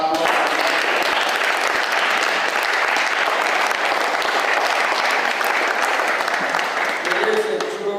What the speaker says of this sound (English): can we give a hand of applause?